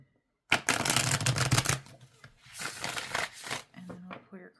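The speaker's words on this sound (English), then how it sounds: "we'll shuffle one more time" Tarot cards are shuffled close up in a dense, riffling burst, then softer intermittent shuffles and card flicks follow, with brief speech in between.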